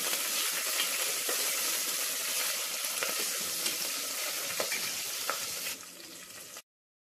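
Soya chunks frying in a pan give a loud, dense, continuous sizzle that drops off sharply just before the end.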